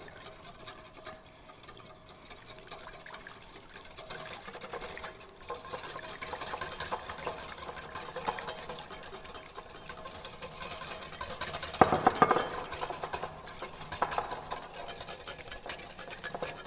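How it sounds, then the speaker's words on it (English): A whisk beats olive oil into a sorrel dressing with a fast, continuous rattling patter against the bowl that runs for the whole stretch and peaks in a brief louder burst partway through, with no talking. "we whisk it until we get a really nice velvety texture. So I am going to whisk in about a 1/4 cup of olive oil"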